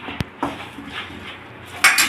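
A ladle scraping and clinking against a metal pot while sambar is stirred, a few sharp knocks spaced apart with a brighter rattle of contact near the end, close and moderately loud.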